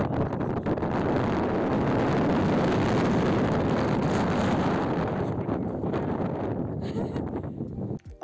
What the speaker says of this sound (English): the wind was so strong that even the mobile stabilizer couldn't stabilize the videos properly